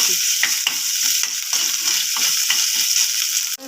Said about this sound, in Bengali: মিনিটখানে আদার কাঁচা গন্ধটাকে ছাড়ানোর জন্য একটু তেলের মধ্যে ভেজে নিচ্ছি।